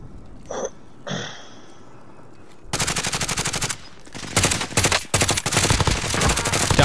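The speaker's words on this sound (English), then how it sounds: "They're shooting." Heavy automatic gunfire from a duos battle royale match, sustained bursts of rapid shots starting after a few quiet seconds with brief faint calls, loud and close with short pauses between volleys.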